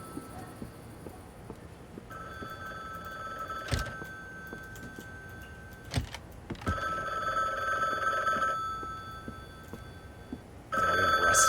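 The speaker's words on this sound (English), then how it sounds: "Our phone's ringing." A telephone rings in the video game The Bookwalker: Thief of Tales, its bell trilling in repeated bursts with short pauses between them, clear and moderately loud over a quiet background.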